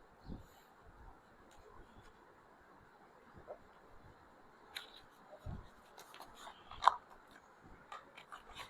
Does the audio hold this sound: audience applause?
no